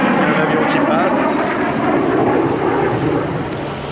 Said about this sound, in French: Il y a un avion qui passe.